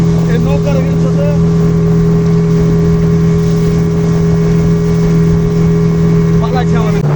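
A motor boat engine drones loud and steady on the water near Bhola, a constant low hum throughout with people talking over it.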